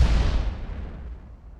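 Naval gunfire from Ultimate Admiral: Dreadnoughts, a 15-inch shell striking a destroyer: a deep, loud boom at the start rolling into a long low rumble that slowly fades.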